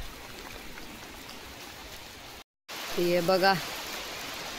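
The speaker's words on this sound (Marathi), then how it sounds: "पण मधीतच पाऊस पडायला लागला" Steady rain pours down on a spread of harvested rice laid out to dry, a constant broadband hiss throughout, with a brief break and a person speaking over it near the end.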